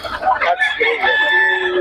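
A Hatch Gray bloodline gamecock rooster crows loudly and close by, one drawn-out call with clucking at its start, while people talk faintly in the background.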